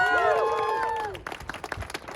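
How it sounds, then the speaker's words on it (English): Voices speak for about a second, then an audience breaks into applause, clapping rising and continuing in a room at a university funding rally. "Please give her a round of applause."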